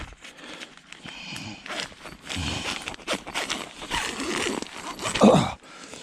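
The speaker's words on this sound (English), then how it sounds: "Zipper's a little sticky." A slightly sticky zipper on the door of an Alpine Mountain Gear Weekender3 tent is pulled in several uneven, rasping strokes up close, with a louder tug near the end.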